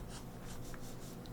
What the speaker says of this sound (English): Super fast sketching, speed sketching